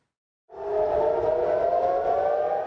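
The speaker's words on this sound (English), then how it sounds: "Sunbathers dashing today from a Tel Aviv beach as sirens wailed." Civil defense air raid sirens wail over Tel Aviv during the Israel–Iran war, a steady sustained rising tone that swells in after a moment of silence and holds loud and even.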